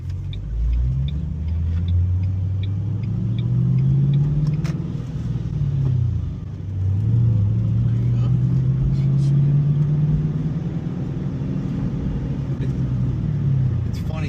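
A manual Ford Mustang GT engine drones low and close from inside the car, rising and falling in pitch as the driver shifts up through the gears, with a steady rumble throughout.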